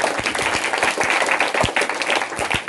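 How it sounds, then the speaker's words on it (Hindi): Church congregation clapping along during a Hindi-language prayer service, a dense, steady wash of many hands with sharp individual claps cutting through, loud and continuous throughout. "ताली बजाओ ना यीशु के लिए।"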